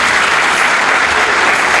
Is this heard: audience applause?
yes